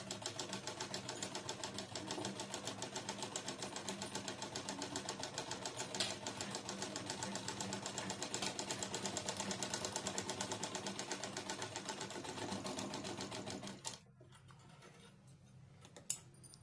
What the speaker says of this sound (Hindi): हमने गले को किनारे किनारे सिलाई लगा लेनी है।